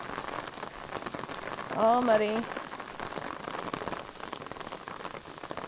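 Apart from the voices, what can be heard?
rain pouring down on the trail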